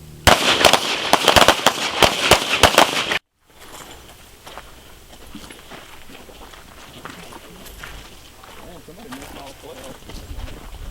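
Shooters firing at targets on a range, a rapid string of sharp, loud cracks over about three seconds, followed by quieter background noise with a voice speaking.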